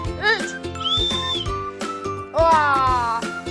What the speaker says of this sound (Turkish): Bekle düdüğümü çalacak.